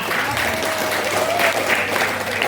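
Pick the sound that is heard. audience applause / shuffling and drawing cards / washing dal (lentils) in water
audience applause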